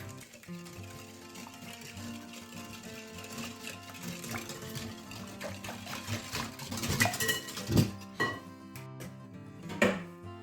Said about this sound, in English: Then next we're going to go in with 230 grams of milk. Just whisk that up.